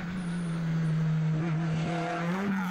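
A rally car at the 2019 Schneerosenrallye powers through a curve, its engine holding a steady droning tone that rises slightly in pitch as it accelerates, heard alone at moderate distance.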